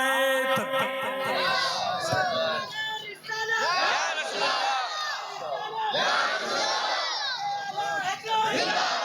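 Crowd at a religious gathering roaring a takbir response to a speaker's call, loud massed shouting in repeated waves of chanting voices that fill the whole span.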